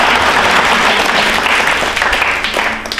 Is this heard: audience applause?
yes